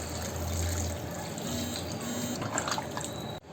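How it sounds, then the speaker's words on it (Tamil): Water is poured steadily into chicken gravy in a clay pot, a continuous close splashing trickle that runs for a few seconds before cutting off. "இதில் வந்து ஒரு 500 ml நம்ம தண்ணி ஊற்ற போகிறோம்."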